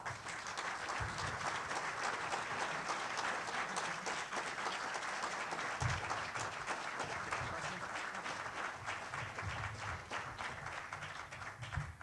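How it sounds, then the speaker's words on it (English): Audience applause after a speech on public education: a steady wash of many hands clapping, fairly faint and distant, continuing evenly throughout with a few murmured voices underneath. "A rousing round of applause."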